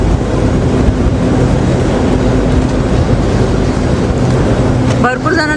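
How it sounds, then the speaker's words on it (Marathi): Train standing at a station platform in Britain, bound for York, a loud steady low rumble of engine and ambient station noise filling the clip, ending with a brief metallic squeal. "आणि ही ट्रेन जाते यॉर्कला"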